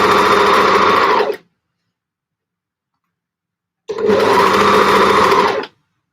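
A sewing machine stitches a T-shirt in two bursts, each a fast, loud, steady mechanical whirr lasting over a second, separated by a few seconds of silence.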